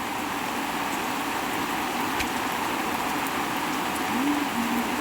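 Steady rain hisses loud and close on a cool afternoon, a constant broadband wash with a brief hum near the end.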